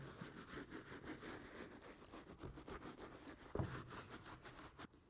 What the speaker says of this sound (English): Make sure to scrub between any of the crevices on the different panels of the shoe